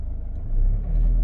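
Car engine idling up as the RPM rises during an error-reset procedure, a steady close low rumble that swells slightly and holds, with no talking.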